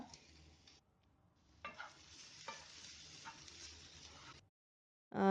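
Grated coconut stirred in a pan over a low flame, a soft steady scraping and faint sizzle that runs for a few seconds with occasional louder strokes, then drops to silence before a brief loud clatter at the end.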